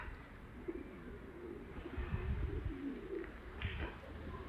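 Pigeons coo softly at close range, with low, repeated murmuring calls scattered across a quiet background and no clear speech.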